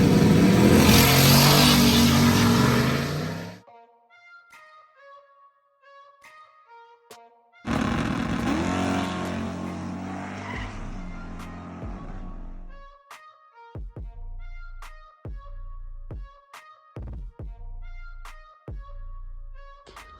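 A turbo LS-swapped Foxbody Mustang running on E85 roars loudly under hard acceleration, falls to a quiet idle, then surges again through a long rev before breaking into a series of short, sharp throttle blips.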